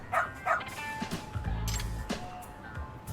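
A dog in the game Lost Judgment gives two short, bright yips close by, then whimpers and snuffles softly among quiet background sounds of the scene.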